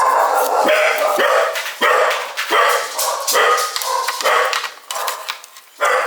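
A dachshund and a cairn terrier in a countryside home barking in rapid, close, loud yaps and yips, with a few whimpers between the barks.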